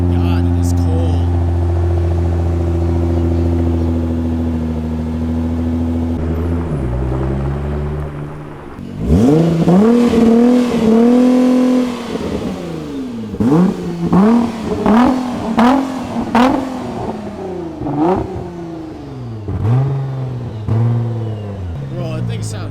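A Nissan GT-R's engine in the snow idles with a steady hum, then blips and revs repeatedly in sharp rising-and-falling bursts, loud and close, while people talk at times.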